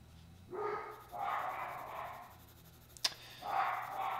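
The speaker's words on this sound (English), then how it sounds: "I truly apologize for the dogs barking if they are driving you folks crazy" Several dogs barking outdoors at a moderate distance, coming in bursts of a few seconds each with a sharp click between them.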